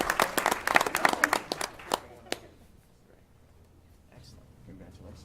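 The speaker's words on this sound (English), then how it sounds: "Give her a nice round of applause if you would." Applause at a school board meeting honoring a teacher, a short burst of dense clapping from a modest crowd that quickly thins to a few scattered claps and fades into quiet room noise.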